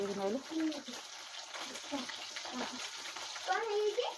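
Whole fish frying in hot oil, with a steady sizzle and bubbling throughout while a person talks over it nearby.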